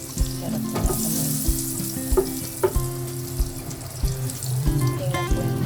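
Butter sizzles and fries steadily in a frying pan for budget spaghetti, with a continuous hiss broken by a few small pops and clinks of stirring. No one speaks.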